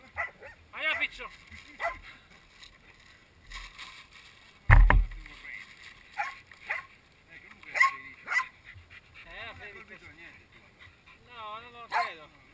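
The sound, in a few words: hunting dog barking at a wild boar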